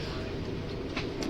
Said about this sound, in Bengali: আর এই যে ট্রেন এখন ছুটে চলেছে অমৃতসরের উদ্দেশ্যে